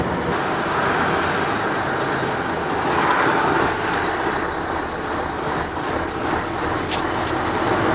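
An empty Scania 143 V8 conventional-cab truck driving on a road, its engine and road rumble forming a steady, loud, continuous drone throughout.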